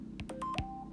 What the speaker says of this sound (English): Oh, that's my phone, sorry.